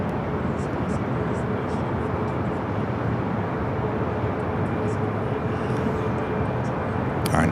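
A jet airliner coming in to land at Los Angeles LAX, a steady broadband engine roar holding at even loudness throughout, with a faint voice underneath.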